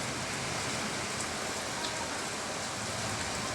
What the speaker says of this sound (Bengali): অনেক ঝড় তুফান শুরু হয়ে গেছে আমাদের এখানে।